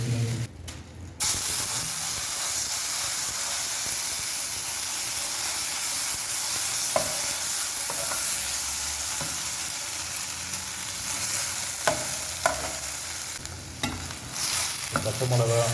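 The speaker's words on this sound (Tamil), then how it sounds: "பச்சை மிளகா, தக்காளி எல்லாம் மிக்ஸ் பண்ணிக்கோங்க" Green chilies and tomatoes fry in oil in a pan, giving a steady, close sizzle and hiss that runs the whole time, with a few short stirring clinks and scrapes.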